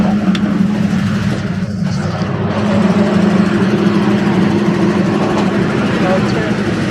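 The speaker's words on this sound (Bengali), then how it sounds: "ট্রেনের ইঞ্জিন রুম পাওয়ার রুম" A train's engine and power room running, giving a loud, steady mechanical drone with a constant low hum that continues unbroken throughout.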